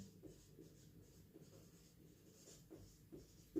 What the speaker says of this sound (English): So let me write it on the board.